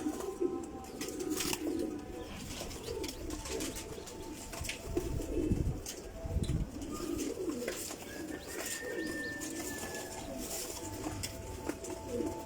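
Pigeons coo softly and repeatedly against a busy background of chirps and rustling, with occasional wing flutters nearby.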